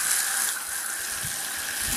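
Water runs steadily from a garden hose into a bucket for soaking clay outdoors, a continuous close hiss and gush with no talking.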